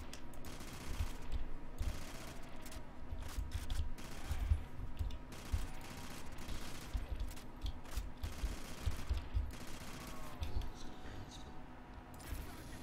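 Gunfire in a Call of Duty Zombies match on a Futurama-themed map rattles in repeated quick bursts with short pauses between them. A steady low hum runs beneath the shots, and there is no talk.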